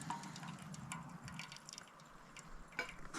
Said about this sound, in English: So I'm going to drain off all the extra water.